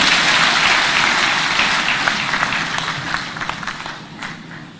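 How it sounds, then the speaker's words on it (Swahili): A church congregation in Nairobi at a thanksgiving service applauds the president with sustained loud clapping from many hands that slowly fades toward the end. "Tumpongeze rais tena kwa makofi tafadhali"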